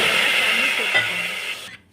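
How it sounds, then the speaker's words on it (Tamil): Water poured into a hot pan of roasted moong dal hisses and sizzles loudly in a sharp burst of steam, holding steady for a moment before cutting off abruptly. "தண்ணி சேர்த்து இப்படி கலக்கி விட்டுக்கோங்க."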